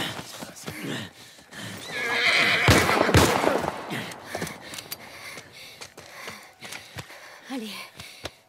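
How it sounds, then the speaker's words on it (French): A horse in The Last of Us Part I whinnies loudly up close, a long wheezing neigh with snorts and clip-clopping hooves around it, and some voices nearby. "Monte sur ce cheval."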